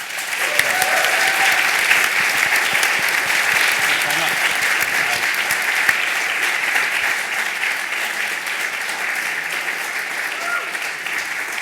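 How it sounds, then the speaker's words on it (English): A live launch-event audience applauds its speakers in a loud, sustained burst of many clapping hands, dense and steady before slowly tapering, with a voice briefly heard over it. "Just a few more rounds of applause for them"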